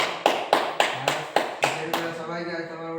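About eight sharp, evenly spaced claps ring out on a serial shooting set, each one crisp and close. They come in a steady rhythm and then stop, while a voice carries on talking at the end.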